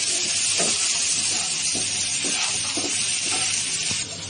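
Onion and green chillies frying in hot oil in a pan, a steady, close, bright sizzle with soft periodic stirring scrapes, no voices.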